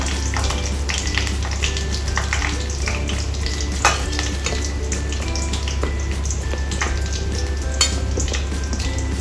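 Eggplant slices coated in salt and cornflour fry in hot oil in a pan, giving a steady, loud, continuous sizzle with small crackles throughout and no talking.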